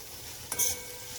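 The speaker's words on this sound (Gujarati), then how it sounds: "મસાલાને આપણે ચલાવ્યા કરવાનું છે." Fenugreek seeds and asafoetida frying in oil in a pan over low heat, with a soft steady sizzle and one brief scrape of stirring partway through.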